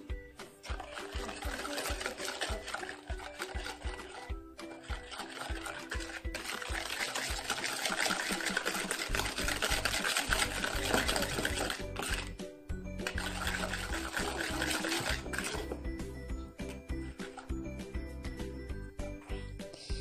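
Batter being stirred after sunflower oil is added, a close, wet sloshing and churning that runs steadily with brief pauses and no one speaking.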